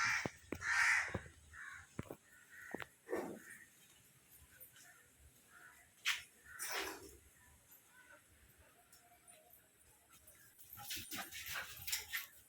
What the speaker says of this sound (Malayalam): ഡോഗ് ഫുഡ് എടുക്കാൻ വേണ്ടി വന്ന കാക്കകൾക്ക് ഇത് ഇഷ്ടമാണെന്ന്